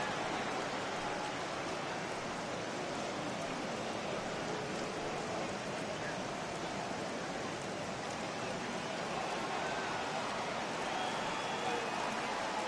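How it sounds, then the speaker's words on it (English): Heavy rain pouring down on a baseball stadium during a Mets vs Diamondbacks game, a steady dense hiss of downpour with no break, constant and fairly loud throughout. "I think the heart of this system is right on top of us because it is really coming down out there."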